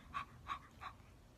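A voice imitates a dog with three quick, faint yips or barks in an even rhythm.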